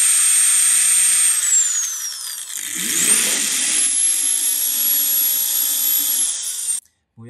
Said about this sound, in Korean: 지금 사이즈를 최대한 작게 만들려고 이렇게 조금씩 조금씩 갈아서 만들었어요